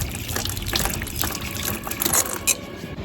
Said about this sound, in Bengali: মাথা হয়ে গেল তো, হাতটা ধুয়ে নি।